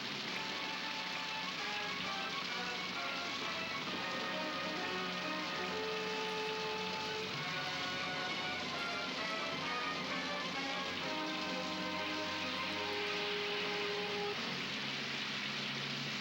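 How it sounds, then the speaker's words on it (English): Steady patter of rain on a surface in a 1984 Lone Ranger VHS tape, continuous throughout, mixed with faint tonal sounds in the background. "Rain!"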